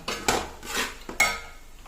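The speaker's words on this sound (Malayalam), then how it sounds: "ഇനി ഇതിൻ്റെ ഒരു ഒന്നങ്ങനെ വഴറ്റിയെടുക്കാം കേട്ടോ" Sardine pickle being sautéed in a pan, with a metal spoon scraping and clinking against the pan in a few quick stirring strokes over a faint sizzle.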